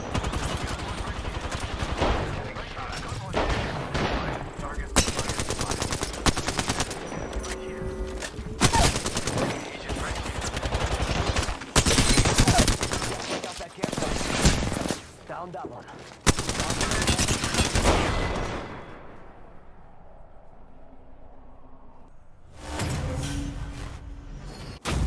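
Rapid bursts of automatic gunfire in an Apex Legends arena match, loud and close with repeated volleys and short pauses, mixed with game sound effects and a player talking over the shooting.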